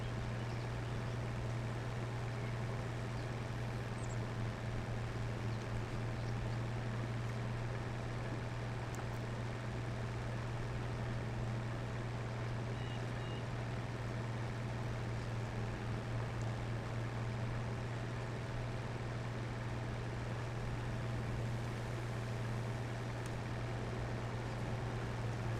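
Ford tractor fitted with dual wheels driving in Farming Simulator 25 during winter, a steady low engine drone running unbroken and fairly loud throughout, with no speech.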